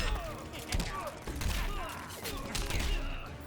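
Injustice 2 fighting-game combo ending in the Joker's canister attack: a dense run of punchy hits, thuds and gunfire-like bursts with swooshing effects, loud and continuous over busy game audio.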